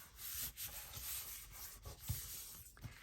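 Patterned paper is folded over and creased during a craft session, with soft close rubbing and sliding strokes and a few light taps, quiet and without talk.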